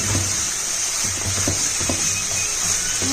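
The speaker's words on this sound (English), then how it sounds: "So I'm going to add the chili powder and the garam masala and the turmeric powder. And I'll give this a stir." Chili powder, garam masala and turmeric stirred into softened tomato sizzle steadily in a pan, a constant close hiss broken by soft irregular scrapes and knocks of the spoon.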